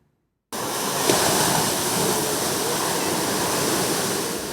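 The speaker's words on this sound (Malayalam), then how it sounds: "കൊല്ലം ബീച്ചിൽ കടലാക്രമണം രൂക്ഷം" Rough sea pounds Kollam beach during a tidal surge that is eroding the shore, a loud, unbroken roar of crashing surf that starts abruptly and carries on steadily.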